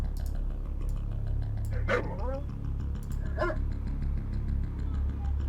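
Attack dogs bark in Command & Conquer: Red Alert, with a couple of short yelping barks rising over a steady low game hum while a player talks.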